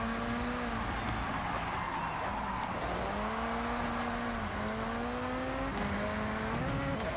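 A supercharged car in Forza Horizon 6 drives from the interior view, its engine drone and a rising and falling whine loud and continuous as it shifts through gears.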